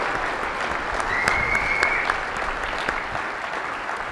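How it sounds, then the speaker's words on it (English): A conference audience at the 2012 CEO National Conference keynote claps in sustained, dense applause for several seconds, with a faint whistle cutting through partway. "give yourselves a round of applause for being here"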